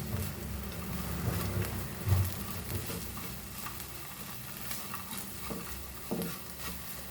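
Goan dry prawn salad of roasted dry prawns and onion is tossed together, making a faint, continuous rustling scrape with a few soft knocks against the bowl, and no one talking.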